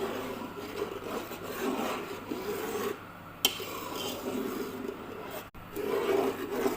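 A sugar mixture being stirred in a cooking pot, a rough scraping and rubbing that repeats in steady strokes, close, with a couple of sharp knocks and brief pauses.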